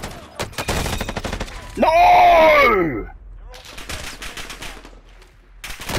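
Video game gunfire, a dense burst of shots at the start, then a loud shout and scattered firing under excited voices.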